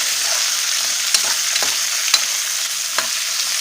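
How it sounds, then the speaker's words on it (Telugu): Onions with a pinch of salt sizzling and frying in a pan, stirred with a few scraping clicks of a spoon against the pan over a steady hiss. "సాల్ట్ వేసుకున్న తర్వాత అన్నంటిని ఒకసారి బాగా కలుపుకోవాలి."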